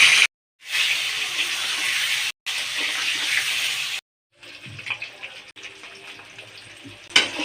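Beaten eggs hit hot mustard oil in a karahi and fry with a bright, steady hissing sizzle, heard close in several short stretches broken by abrupt cuts, the last part quieter with crackles and pops.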